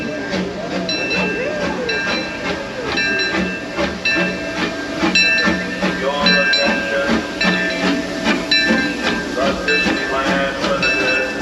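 The Disneyland Railroad steam train rolls along its track on the Grand Circle Tour, a steady, close rumble and clatter of wheels with hissing steam and a regular rhythmic clack throughout.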